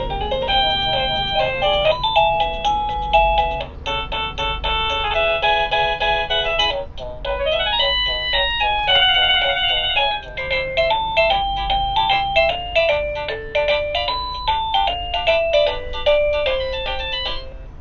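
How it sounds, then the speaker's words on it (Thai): An Eken wireless doorbell chime receiver steps through its selectable ringtones, playing one bright electronic melody after another with short breaks between tunes, steady and close, with no voices. "ตัวกระดิ่งรับในบ้านเนี่ยก็คือตัวนี้เป็นตัวส่งเสียงในบ้านเรานะครับ"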